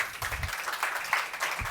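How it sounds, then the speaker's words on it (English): Audience applause at a sustainable design webinar event, a brief burst of many hands clapping at moderate loudness, steady and unbroken. "So please give him a round of applause"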